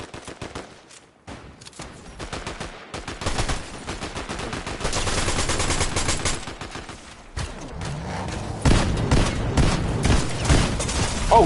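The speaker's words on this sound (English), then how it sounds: "Oh shoot, I'm getting shot!" Rapid automatic gunfire crackles in dense, loud bursts during a Fortnite match, with volleys of shots and brief pauses between them, and a little speech mixed in.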